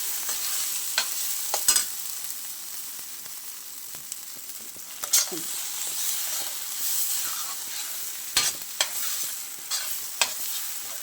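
Brinjal masala frying on low heat in a pan, a steady close sizzle with occasional stirring scrapes and pops, with no talking.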